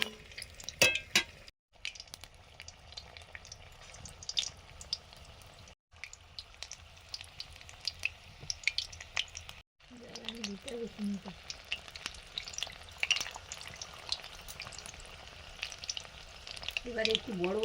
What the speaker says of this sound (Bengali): গাজরের চপ দুটো যে দিয়েছিলাম তেলে,